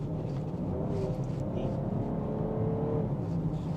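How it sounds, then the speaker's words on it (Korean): A new BMW X5 accelerates in sport mode with its variable exhaust note artificially amplified, a steady engine drone rising under the cabin noise throughout, heard from inside the car without talk. "이게 가변 배기, 그러니까 가짜 배기인데 배기 사운드를 인위적으로 키워놓은 느낌도 확실하게 들어오고 있습니다"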